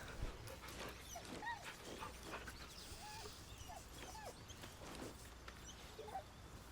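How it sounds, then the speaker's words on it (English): A puppy in a video game whimpers and yips softly while being petted, producing short rising whines repeated throughout over a steady low background, without any talking. "Pet that puppy."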